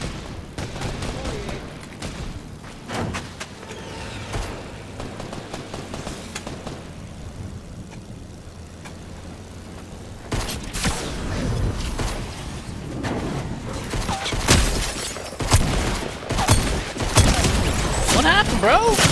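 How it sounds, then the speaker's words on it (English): Rapid gunfire bursts and booms from a shooting video game, dense and loud throughout, intensifying in the second half, with a voice talking over it. "Oh, Billy Bad shooting at me."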